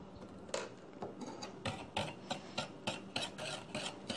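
Flour being sifted and mixed into cream puff batter in a bowl, heard as a close, steady series of soft rasping strokes, roughly two per second, with no talking.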